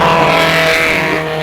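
Alfa Romeo and other Italian-marque race cars roar past in a dense, continuous engine drone on the first lap of the 2015 Pittsburgh Vintage Grand Prix, loud and steady with a slight fade at the end and no voices.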